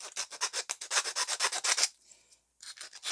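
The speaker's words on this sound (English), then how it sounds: "This is the first time I'm using a file just for the sake of this video" A hand file rasps across a Nerf blaster part in quick, even back-and-forth strokes, about a dozen close scrapes, then a short pause before the filing starts again.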